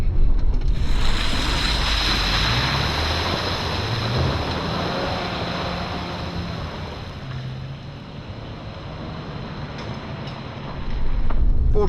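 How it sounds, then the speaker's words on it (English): A 2025 Subaru Outback XT Sport splashes through a shallow water crossing on a drive, a broad, steady wash of spray and engine rumble lasting throughout, loud and close, rising again near the end. "Got a little water crossing down here."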